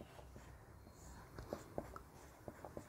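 Pen scratching on paper while tiger reserve names are written out, faint and close, with a few sharper strokes in the middle and near the end.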